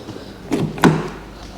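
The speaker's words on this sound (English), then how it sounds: "the fob will open, will lock and unlock the car" Two short mechanical clunks about a third of a second apart, a Fiat 500X's door locks actuating by key fob, fairly close with a quiet background.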